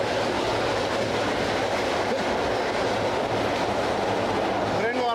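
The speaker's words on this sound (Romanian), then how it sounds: "Vagoanele tremură din toate balamalele, iar unele componente par să fie la un pas de a se desprinde de la locul lor." Old CFR passenger carriages on a Romanian railway rattle and roar loudly while moving, a dense continuous clatter of loose fittings and wheels with a brief squeal at the end and faint talk beneath.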